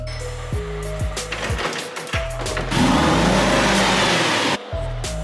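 A salvaged British supercar's engine runs and revs in a series of stepped pitch rises and falls, loud and close, with a brief clink and a steady high whine mid-way.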